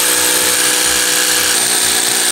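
A power drill bores a new hole during a house renovation, running as a steady, loud, continuous whine for the full length and stopping abruptly at the end.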